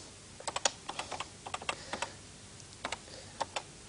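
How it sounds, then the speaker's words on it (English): Keys are typed on a microcomputer keyboard in a word processor, with short bursts of crisp, close clicks in an uneven rhythm separated by brief pauses. "to correct that we can again overtype it and simply type a T"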